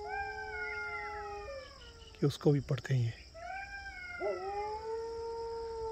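A farm dog howls back at night jackals near a free-range chicken yard, its long rising and falling howls near and clear, broken midway by a brief burst of speech before the howling resumes.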